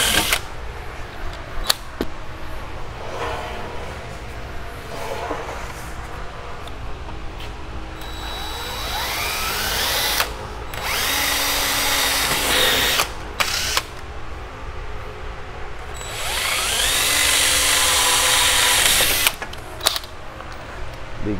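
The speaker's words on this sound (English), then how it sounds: "I'm going to drill the center hole on the slides to make sure it really fits good." Power drill boring the center holes through metal roof rack slides during a MotoBilt rack and Overland Vehicle Systems Nomadic 270 LT awning install, with several sustained whining bursts, two long runs near the end, close and loud.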